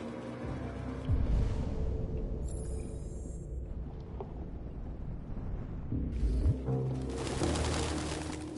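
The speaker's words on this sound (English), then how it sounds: "No human could live with all these fucking pigeons." Pigeons coo in a low, continuous murmur inside a house attic setting in the video game Detroit: Become Human, with a rumbling ambient bed under the birds.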